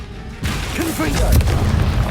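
A Confringo explosion spell bursts in the Hogwarts Legacy video game, a sudden loud boom followed by rumbling as a voice speaks over it.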